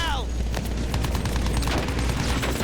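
Enemy gunfire in the video game Battlefield 1 crackles in rapid, overlapping bursts of shots, loud and close, with a heavy low rumble running beneath the volley throughout.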